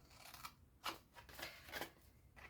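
Scissors cut through paper card in a few short snipping bursts, stopping at a horizontal score mark; close, fairly quiet crisp strokes with brief pauses between them.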